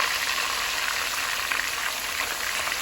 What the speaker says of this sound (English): So we are going to nicely fry that fish.